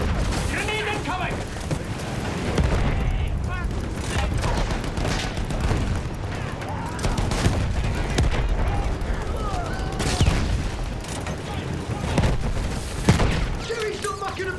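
War video game combat with grenade blasts and gunfire: dense bursts of shots and booming impacts fill the scene continuously, loud and close, with shouting voices and music-like tones mixed in.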